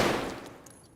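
A single gun in a video game fires a quick loud burst right at the start, and the sound tails off over the rest of the second.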